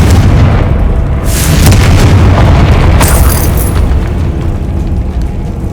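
A loud, sustained explosion from the Confringo blast spell in the Hogwarts Legacy video game, a deep rumbling boom with crackling bursts that fills the whole stretch without letting up.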